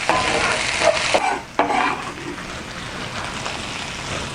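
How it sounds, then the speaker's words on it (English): Chopped onion and garlic sauté in hot oil while a spoon stirs through the pan. A steady close sizzle is broken by a few scraping stirs in the first couple of seconds, then settles into an even crackle with no talking. "I'll just let these two saute together while I stir from time to time"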